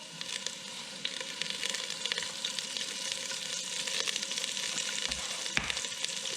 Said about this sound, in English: we're going to add the onion over a medium-high heat